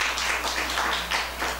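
Sparse, faint clapping from an audience in a hall during a Buddhist sutra lecture, a few scattered hand claps over a low, steady background hum.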